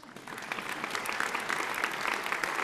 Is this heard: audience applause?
yes